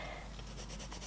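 Coloured pencil scribbles rapidly back and forth on textured colouring-book paper, a close, soft, continuous scratchy rubbing for about a second.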